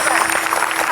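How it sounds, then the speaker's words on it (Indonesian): Studio audience applause on an Indonesian TV family game show, a dense steady wash of clapping throughout a brief moment, loud and close with no gaps. "Wah boleh tepuk tangan buat Kubil."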